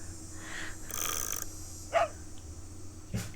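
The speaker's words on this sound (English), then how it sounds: "You don't have to bark." Dogs in a room make short breathy growls and snorts with a brief sharp bark-like burst, close and moderately loud, amid a noisy indoor background.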